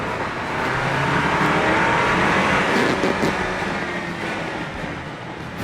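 Steady engine drone of a 2024 Jeep Wrangler 4x4 held in first gear in manual mode, a continuous mid-loud rumble with road noise, no talk.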